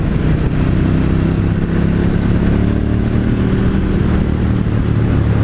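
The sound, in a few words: 2018 KTM 1290 Super Duke motorcycle engine in fourth gear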